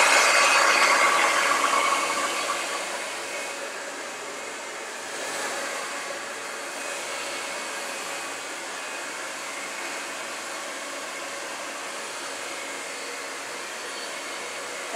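Hair dryer blowing on very long hair, a steady close whoosh that is loudest at the start, then drops slightly and holds a constant hum for the rest.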